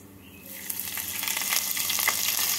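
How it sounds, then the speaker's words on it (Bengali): Grated ginger hits hot tempering oil already holding cardamom, cinnamon, cloves and bay leaf, bursting into a loud, steady sizzle with scraping stirs for chirer polao; no voices. "আদাটাকে নাড়াচাড়া করে নেব।"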